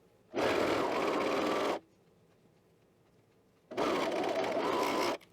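Two separate bursts of close, loud sewing machine stitching on the last seam of a twist top, each about a second and a half long, separated by near silence.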